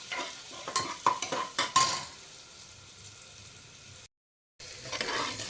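Onions and tomatoes roasting in a pressure cooker for pav bhaji make a burst of stirring scrapes and clinks over a soft sizzle, then a quiet stretch, a brief dropout, and renewed sizzling.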